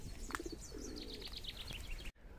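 Pigeons cooing close by on a walk through a pine forest, soft low coos mixed with a few chirps and faint wing flutter, ending in a sharp brief clunk.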